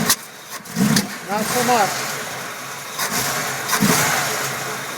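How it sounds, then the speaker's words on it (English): A 1965 Chevy truck engine that sat unused for 11 years, running on a new battery with a carburetor needing adjustment, idles roughly with brief revs while people talk nearby. "I bought a new battery, put some oil in it, and it started right up."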